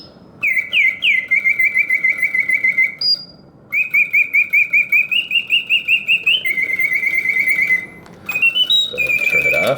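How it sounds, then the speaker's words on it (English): A vintage circa-1940s Karl Griesbaum mechanical singing bird cage warbles loudly and continuously, bright trills and repeated chirps in quick rhythmic bursts, with short pauses between phrases and a faint mechanical hum beneath. "So the bird sings with full voice, yet the mechanism runs smoothly and quietly."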